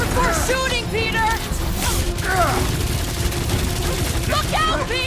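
Rapid gunfire bursts in the Guardians of the Galaxy video game, punchy repeated shots mixed with chirpy sci-fi effects and bursts of game dialogue over a dense, loud battle backdrop.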